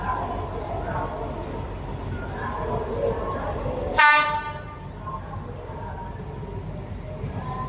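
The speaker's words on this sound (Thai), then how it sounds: "มานะครับขบวน 463 ทำขบวนโดย หัวรถจักรอันต้อมครับ" Diesel train no. 463, hauled by an Alsthom locomotive, passes on a morning run at Khuan Niang with steady broadband rumble throughout and a loud, brief horn blast midway.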